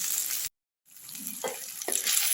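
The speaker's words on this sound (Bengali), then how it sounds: "আদা রসুনটা যখন একটু ভাজা ভাজা হয়েছে, তার মধ্যে আমি টমেটোটা দিয়ে দিলাম।" Tomato frying with ginger and garlic in a pan gives a steady close hiss that cuts out briefly, then resumes with a few soft stirring bumps.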